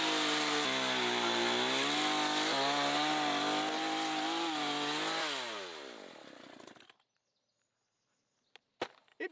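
Loud revving chainsaw from the Doom video game, its harmonic engine whine rising and falling for several seconds before cutting off, followed by near silence and a couple of faint clicks.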